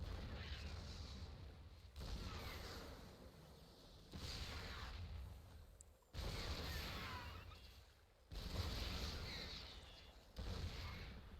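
Siege tank in StarCraft II shelling a Zerg spawning pool, heard as a series of about six heavy booming impacts spaced roughly two seconds apart, each a broad blast that decays before the next, with no talk over it.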